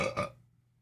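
A single loud burp from a woman during a live fitness stream, sharp at the start and trailing off quickly into quiet.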